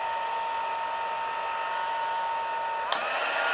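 A heat gun blows steadily on a stamped candle, a continuous close airy whoosh with a brief click near the end, no talking.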